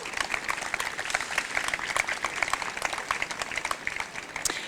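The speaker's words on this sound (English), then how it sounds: "Let's give them a round of applause." Audience applause at a park grand reopening ceremony, a dense, even wash of many people clapping outdoors at moderate level, continuing steadily without pause.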